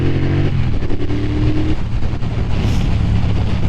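A 2022 Triumph Bonneville Bobber motorcycle pulls hard under throttle, its engine note loud and close, with a steady rumble as it accelerates along a main road.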